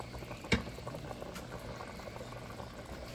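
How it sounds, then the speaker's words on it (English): Pork neck bones and potatoes simmering in a pot of seasoned water, a steady rolling bubble with one sharp tap near the start, close and continuous. "I'm going to continue to let it boil"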